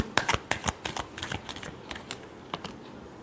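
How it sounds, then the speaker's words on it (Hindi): Tarot cards are shuffled in a brisk run of crisp, close riffling flicks and soft slaps, each burst quick and papery, with no voices. "लास्ट शफल, लिब्रा के पर्सन की फीलिंग्स लिब्रा के लिए"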